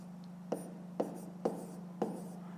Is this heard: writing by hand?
yes